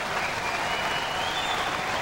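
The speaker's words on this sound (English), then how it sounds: "Let's have a big round of applause for our folks from Uzbekistan here." Steady audience applause at a Hopman Cup mixed-doubles tennis event, a dense, continuous wash of clapping from a large crowd that holds at an even level throughout.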